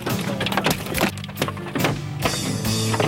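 Hailstones pound a car windshield in a violent storm, with sharp, irregular cracks and crunching glass impacts coming in rapid, close bursts.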